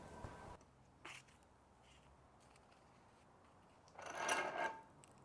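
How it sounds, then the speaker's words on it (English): A file rasping across the soft, unhardened steel tang of a handmade knife, a couple of short strokes early on, then a louder, longer rasping burst near the end, otherwise quiet. "Thankfully, the steel was soft. So filing's not my first choice, but it's not so bad when the steel isn't hardened."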